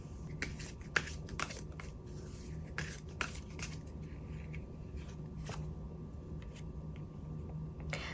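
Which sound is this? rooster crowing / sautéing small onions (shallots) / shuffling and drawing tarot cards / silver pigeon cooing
shuffling and drawing tarot cards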